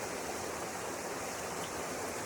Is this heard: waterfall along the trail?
yes